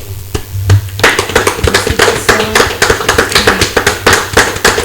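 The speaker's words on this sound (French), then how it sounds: "nous vous demandons de l'applaudir et pousser des cris de joie" Clapping from a studio audience on a Congolese political talk show, greeting a new human rights inspector; after a near-silent first second, a fairly small group claps in sharp, distinct, uneven claps, close and loud.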